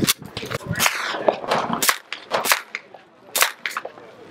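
Suppressed gunshots from a Dakota Tactical gun fitted with a SilencerCo Hybrid at an outdoor range, several sharp, loud cracks in an irregular string at close range.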